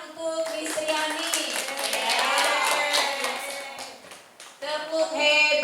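A group of teachers at a school training session applauds Miss Triani: busy clapping mixed with overlapping voices and cheering that swell in the middle, dip briefly, then rise again.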